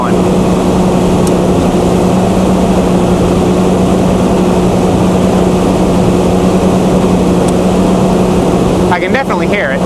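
Chrysler Slant 6 engine driving a generator under a 3 kilowatt load, a loud, steady drone with a constant low hum throughout, close by, with a brief rustle near the end.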